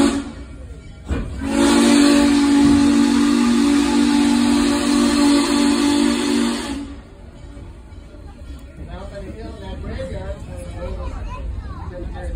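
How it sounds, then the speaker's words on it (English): Steam locomotive 611 sounds a long, loud whistle at a river crossing, a steady hissing blast holding for about five seconds before it cuts off, followed by quieter rumble and people talking. "I want to get the next whistle because they're the river crossing"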